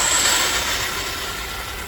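A Redcat Gen8 v2 RC crawler's electric motor runs at full throttle, a steady high-pitched whine over a broad rushing whir that holds constant for two seconds without talk.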